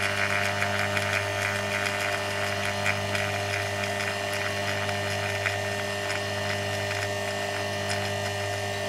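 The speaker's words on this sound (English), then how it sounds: "You can hear the pump changing note as it's pulling the air out." A vacuum pump pulls air out of refrigeration pipework during evacuation, giving a steady, fairly quiet mechanical drone with a constant hum and buzzing overtones that runs unchanged throughout.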